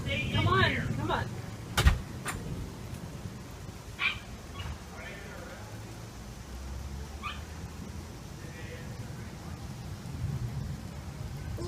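Steady rain hisses and patters with a low rumble of thunder and a sharp crack near the two-second mark, while brief voice sounds come through at the start.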